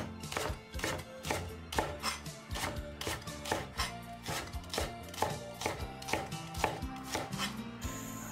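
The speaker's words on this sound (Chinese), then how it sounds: "再切点葱段" A knife chops scallion into segments on a cutting board, sharp rapid thuds in a steady rhythm, close and crisp, with no talking.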